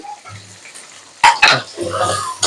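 Onion, green chili and chopped garlic frying in hot oil, with a steady sizzle broken by a few sharp bursts of spattering and stirring noises near the pan; a brief low voice is heard at the start.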